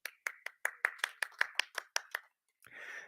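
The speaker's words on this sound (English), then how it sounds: "Thank you for clapping for me with my prompting clap." A conference audience claps in a short, crisp burst of about a dozen distinct hand claps, fairly close and evenly paced, followed by a brief pause and a soft rush of noise.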